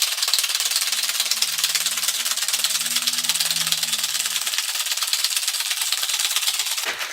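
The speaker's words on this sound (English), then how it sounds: "Fill the shaker with ice and shake vigorously until it is ice cold." Ice is shaken hard inside a cocktail shaker, making a dense, steady rattle for about seven seconds, with a faint low hum partway through.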